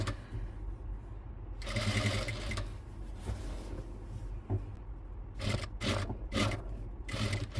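A sewing machine stitches a stretchy lace trim onto the neckline of a nightie. Its motor whirs in stop-start bursts, longer runs giving way to quick short spurts, over a constant low background hum with no speech.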